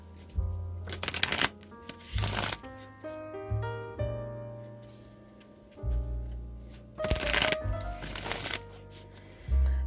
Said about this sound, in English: I'm just going to shuffle this deck 3 times